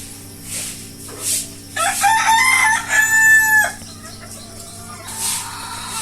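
Chickens on a poultry farm clucking in short bursts close by, with a louder rooster-like crow rising through the middle.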